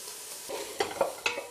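Bean chilli cooking gently in a saucepan, heard as a soft, close simmering sizzle with a few quiet stirring knocks and bubbles over a short stretch.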